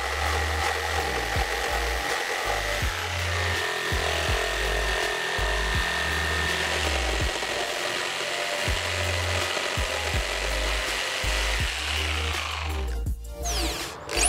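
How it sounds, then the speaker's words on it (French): A jigsaw cuts through wooden shelf boards with a steady buzzing, rasping drone and regular rhythmic dips as the blade strokes. It is loud and close, then stops abruptly just before the end. "je coupe tout ça à la scie sauteuse."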